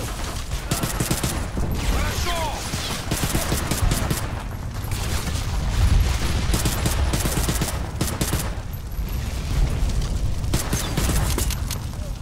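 STG-44 rifle gunfire in the video game Medal of Honor: Airborne, bursts of rapid shots mixed with other battlefield gunfire and clatter, loud and continuous with brief lulls.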